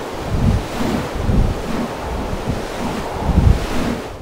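Rough weather at sea aboard the NOAA research ship Bell M. Shimada: a continuous roar of waves and wind buffeting the microphone, with heavy low surges swelling and fading every second or so, loud and close, no voices.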